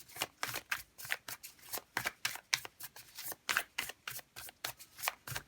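Light Seers Tarot cards being shuffled by hand: quick, crisp riffling bursts and flicks come in an irregular rapid rhythm, close and clear, with no talking.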